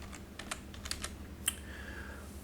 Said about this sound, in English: Now in the search box we have to type pivot points.